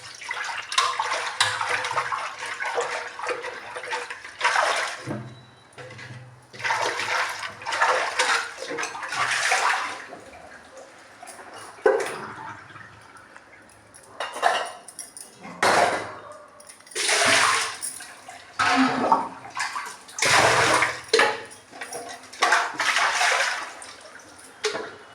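Running water pours and splashes while a vessel is washed, coming in irregular bursts and gushes with short pauses, close and moderately loud.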